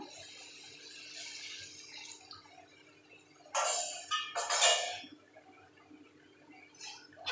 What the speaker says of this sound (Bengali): এখন আমি এখানে জল দিয়ে দেবো জল আলু সিদ্ধ করা জলটাই দিয়ে দেবো